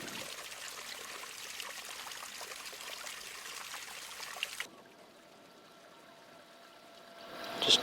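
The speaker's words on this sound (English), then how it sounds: "Just transferring a bit of fuel across here." Fuel trickling from a container during a bush trip by a creek bed, a steady pouring rush that stops abruptly partway through, leaving quiet outdoor ambience and a small clunk at the end.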